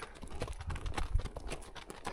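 Hooves of a mustang clip-clopping on a desert ride out, a quick, uneven series of close, fairly faint hoofbeats with no talking.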